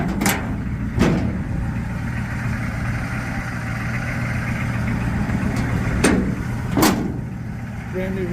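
A 1987 GMC R1500 with a 6.2 V8 diesel idles steadily up close, a low continuous rumble broken by a few sharp knocks or clicks.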